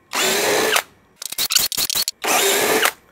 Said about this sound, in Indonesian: kita akan bor ukuran 10 mili, variable speed 1